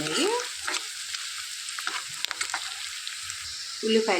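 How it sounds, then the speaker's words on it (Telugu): Onions fry in a pan until brown for a ridge gourd and dried prawn curry, with a continuous crackling sizzle and a few stirring scrapes and brief tonal clinks. "మంచిగా బ్రౌన్ కలర్ వచ్చే వరకు వేయించుకోవాలండి ఉల్లిపాయలు"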